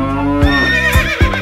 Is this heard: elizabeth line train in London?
no